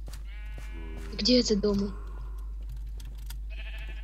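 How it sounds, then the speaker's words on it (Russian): Sheep bleat in Minecraft, one short wavering call standing out loudly over a steady low hum, with people talking in the game chat around it. "Давай сделаем ножницы и пойдем побреем овец"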